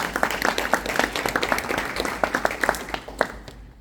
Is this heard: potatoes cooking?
no